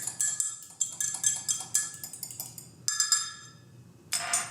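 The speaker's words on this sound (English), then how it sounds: "Dash of lemon juice. Okay. I'm going to whisk this together." A whisk beating a lemon juice marinade in a bowl, giving rapid rhythmic metallic clinks and scrapes in close, steady bursts with a brief pause near the end.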